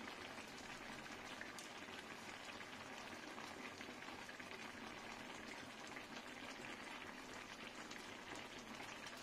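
A pot of ridge gourd and potato curry simmers on the stove, a soft steady bubbling and fizzing with faint popping, quiet and continuous with no voices.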